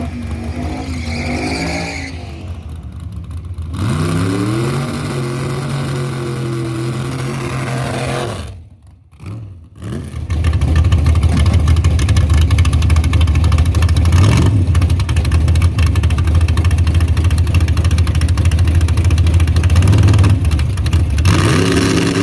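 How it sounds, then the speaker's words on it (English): A race car on a track at the last race of the season, engine revving upward in rising pitch, dipping briefly, then roaring loud and steady at full throttle, close by. "my mom has made it an absolute rule that I have to be the first one to take this car down the track"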